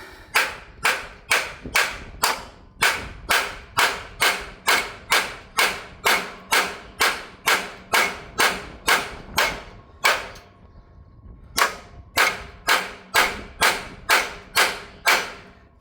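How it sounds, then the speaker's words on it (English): Hammer taps on the end of a part on a John Deere 350 sickle mower during belt replacement, sharp metallic knocks repeated in a steady rhythm, about two per second, with a brief pause midway before the tapping resumes, close and fairly loud. "I'm taking a hammer, I'm tapping on the end here."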